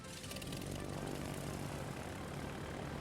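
Carrier dive-bomber aircraft in World of Warships: Legends, a steady droning propeller engine roar held at constant level for a few seconds, with no talking.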